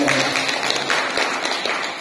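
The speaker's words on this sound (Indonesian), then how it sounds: "Tepuk tangan untuk kita semua." Applause from an audience at an Indonesian civic organisations jamboree in Malang, a dense, steady wash of clapping that runs loud and even through the whole stretch.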